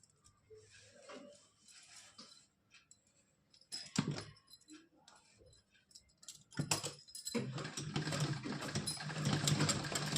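A sewing machine runs in short bursts, then settles into a longer steady whirring run while stitching lace onto a cotton Laddu Gopal dress, heard close with quiet gaps and light handling noises between.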